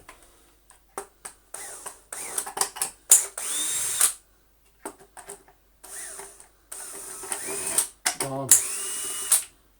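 Cordless power screwdriver whirring in short, repeated bursts while backing T10 Torx screws out of a dusty, badly worn Dyson DC08 vacuum cleaner, close and loud, stopping and starting with brief pauses, someone talking between bursts.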